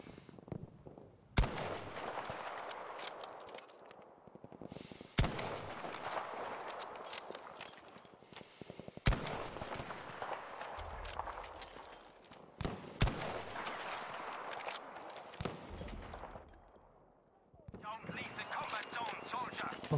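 Bursts of gunfire in the Battlefield V shooter game come as several sharp, loud cracks with rattling tails, separated by short pauses. Quieter game noise and someone speaking sit between the shots.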